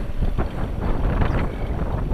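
Wind gusting across an open hay field of orchard grass during haying, a steady broadband rush with buffeting bursts against the microphone.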